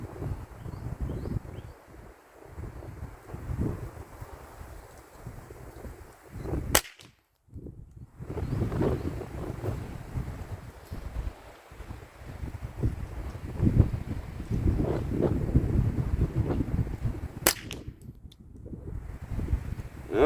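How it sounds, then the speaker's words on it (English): Strong wind buffets a microphone outdoors at a hot, windy pistol match, a continuous rumbling roar with gusts and two brief drop-outs. "is both hot and windy today"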